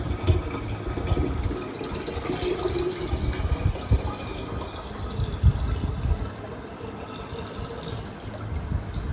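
A litre of water, boiled and then cooled, is poured from a kettle into a batch of beetroot wine, making a continuous splashing, gurgling stream for about nine seconds, close and steady.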